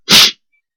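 A single sharp sneeze from a baseball play-by-play announcer bursts out loud and close, lasting a fraction of a second before falling into silence.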